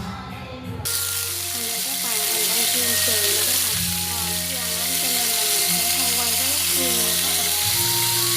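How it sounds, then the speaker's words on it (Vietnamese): Pork ribs frying in hot oil, giving a loud, continuous close sizzle throughout, with voice-like murmuring faintly in the background. "sườn chiên của mình cũng chiên xong rồi các bạn"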